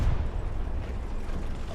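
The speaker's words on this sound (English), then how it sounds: "Boom, we got an explosion." A precision strike explosion in the WWII shooter Hell Let Loose, heard as a steady, heavy low rumble of blast and debris lasting the whole moment, loud and dense without a sharp single crack.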